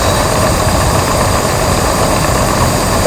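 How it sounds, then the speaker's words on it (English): An air compressor runs steadily for a ship engine room diorama, a dense, continuous mechanical hum and rumble, loud and close, with constant vibration and no pauses or voices. "I've got about 15 pound of air on the compressor"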